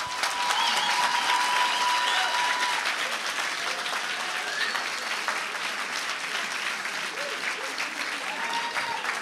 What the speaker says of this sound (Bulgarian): така че аплодисменти за всички вас